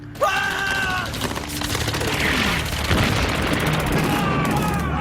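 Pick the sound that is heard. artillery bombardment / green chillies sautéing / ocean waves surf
artillery bombardment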